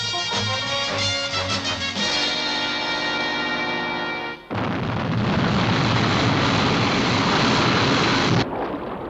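Sky 1, a fighter aircraft from the UFO TV series, lifts off: a loud harmonic engine whine builds, then a sudden roaring blast of rushing thrust sustains before cutting off.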